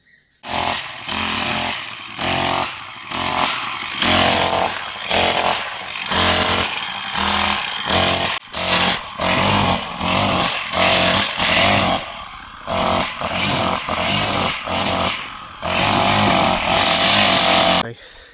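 Brush cutter strimming dense weeds, a loud buzzing two-stroke whine that surges and drops in repeated bursts as it cuts, running close and steady for the whole stretch.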